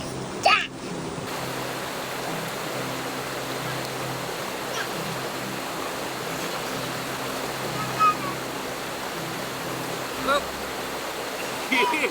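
A creek flows steadily at a campsite along a trail, its broad rushing wash continuous and close throughout, with a brief splash or bump near the start and faint scattered knocks.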